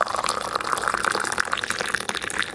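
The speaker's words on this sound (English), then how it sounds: "pours you some hot water from the kettle, and then puts a little tea bag in it to steep" Hot water pouring from a kettle into a glass for tea, a steady close trickling and splashing stream that runs continuously for a couple of seconds with no talking.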